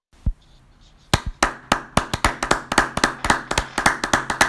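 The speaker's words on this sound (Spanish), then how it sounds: "Y los aplausos desde las ventanitas" Scattered applause from a small audience at the end of an online talk about Theresienstadt and Fredy Hirsch: one sharp clap, then a steady run of crisp, separate claps from a few people.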